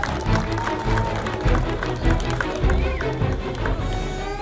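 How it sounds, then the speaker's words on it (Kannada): Audience applause welcoming school teachers and students at a Clean Mysuru street play, a steady outdoor patter of many hands clapping without pause. "ಅವರಿಗೆ ತಮ್ಮೆಲ್ಲರ ಅಭೂತಪೂರ್ವವಾದ ಚಪ್ಪಾಳೆ ಮುಖೇನ ಸ್ವಾಗತಿಸಿ"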